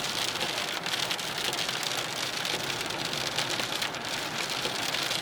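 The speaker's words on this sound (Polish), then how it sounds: "bardzo duży deszcz się rozpadał" Heavy rain pours steadily and loudly, a dense continuous hiss of drops on a surface with no voices.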